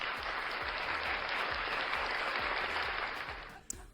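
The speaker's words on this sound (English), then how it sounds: "Oh my gosh, I know I'm giving applause." A canned applause sound effect plays quietly during a talk stream, a steady crowd clapping that fades out near the end.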